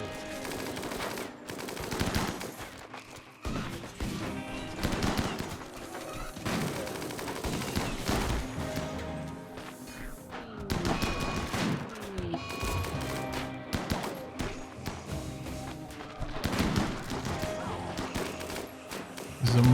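Rapid gunfire in RimWorld as tribal colonists open fire in battle, dense volleys and bursts crackling loudly and continuously with crashes mixed in, a voice briefly heard under the shooting.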